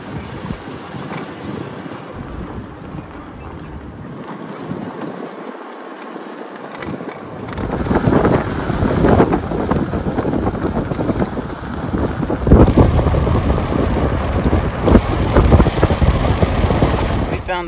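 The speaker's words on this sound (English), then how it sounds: "Be a little breezy here" Wind gusting loudly across a microphone at a snowy mountain campsite, starting moderate then growing into a strong, steady roar of buffeting for the latter half.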